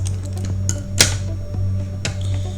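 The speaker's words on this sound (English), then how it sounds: "You can just go ahead and cut off the thread and the plastic." Thread and plastic are snipped off an Ethernet cable with a cutter, a few sharp close clicks with the loudest near the middle, over a steady low electrical hum with no speech.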